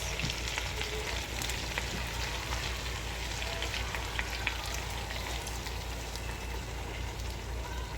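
Adobong tuyo, dried fish adobo, sizzles steadily in a hot pan after soy sauce is poured in, a dense, even crackling hiss with scattered pops that runs without a break, no voices.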